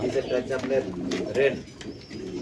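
Pigeons kept in basket lofts on a rural farm coo in repeated soft, throaty bursts close by, over a low background murmur.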